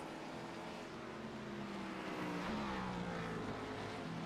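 A race car engine drones in a Phoenix Raceway Xfinity Series sim race, holding a steady pitch before a quick downshift mid-corner makes the tone jump and then settle lower.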